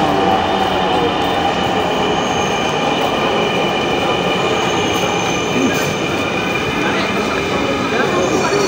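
A Dhaka metro rail train pulls into the station with a loud, steady rumble and faint wheel squeal at close range, while a person talks excitedly over it.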